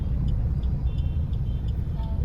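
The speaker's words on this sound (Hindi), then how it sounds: "यहाँ पे भी ट्रैफिक है।" Street traffic in Pune, a steady low rumble of cars and engines close by with faint horn toots popping up now and then over the continuous road noise.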